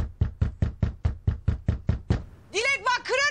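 About a dozen firm, evenly spaced knocks pound on a door, close and loud, then stop as a voice shouts.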